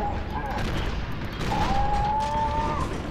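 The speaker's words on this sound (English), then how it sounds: "Now is not the time to be shooting at my arse." Enemy soldiers open fire in the F.E.A.R. 2 video game, a steady rattle of gunshots with a faint mechanical whine over a noisy, moderately loud background.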